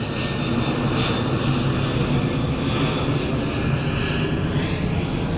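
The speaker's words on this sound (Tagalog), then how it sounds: "Airplane!" An airplane passes overhead above a river, its engine drone steady and fairly loud throughout, a continuous broad roar with no voices over it.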